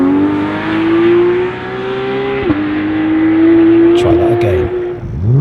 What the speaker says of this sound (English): pressing hard on the throttle pedal of a daily driving car makes it do